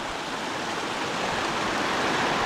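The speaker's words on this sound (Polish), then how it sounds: "przechodzę tutaj przez właśnie takie płaty już śniegowe, z których wypływa woda" Meltwater streaming out of snow patches on a high alpine mountainside, a steady broadband rush of flowing water that stays close and fairly loud throughout, with no voices.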